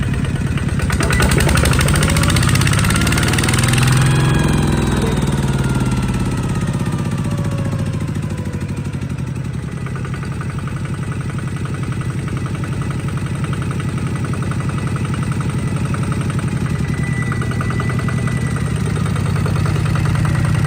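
A loud diesel engine on a Kubota ZT110 Plus tractor revs up, the pitch climbing and falling as it roars, then holds a steady rumbling run.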